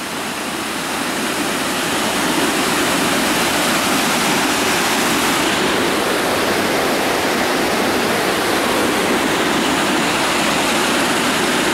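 Dry Falls on the Cullasaja River pours down in icy winter conditions, a loud, close, unbroken roar of falling water that fills the scene from start to finish.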